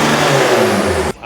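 A VW Caddy's 2 litre diesel, converted from an SDI to PD130 spec with turbo and injectors, revving hard on a dyno: a loud, close, sustained engine roar with its pitch shifting, then cutting off abruptly near the end.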